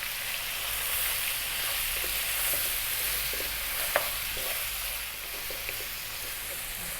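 Onion, fresh curry leaves and salt frying in a pan for an Indian lamb curry, giving a steady, close sizzle with a few soft stirring clicks and one sharp tap, and no talking.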